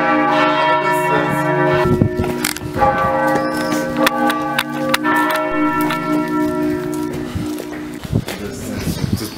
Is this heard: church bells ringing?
yes